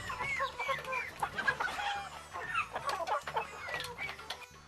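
Chickens clucking busily on a farm, with short, choppy calls overlapping one another, close by and with no one talking.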